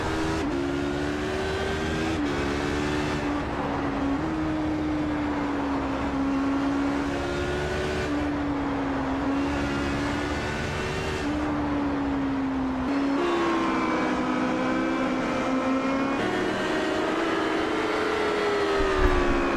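Race cars lapping Suzuka in a racing video game, Corvettes and McLarens among them: loud, continuous engine drone with pitch rising and falling through gear changes and passes, brief dips between cars, no voices.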